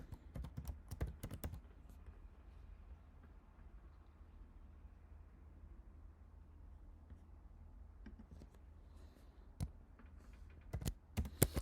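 Quiet typing on a computer keyboard: quick clusters of soft key clicks at the start and again near the end, separated by a stretch of near silence with low background hum.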